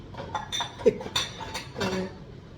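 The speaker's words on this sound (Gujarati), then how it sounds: "ડિશ વોશર ગોઠવું છું કે એમાં કેવું હોય વાસણ ગોઠવી દો" Dishes and cutlery being loaded into a dishwasher rack at home, with scattered clinks and clatters of plates and utensils knocking together at close range, interrupted by brief moments of talk.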